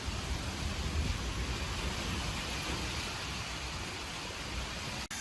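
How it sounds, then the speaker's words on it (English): Heavy rain drums steadily on a shed roof, forming a dense, even hiss that stays close and continuous with no voices. "it just started raining and you really hear the rain pounding down on the roof of the shed"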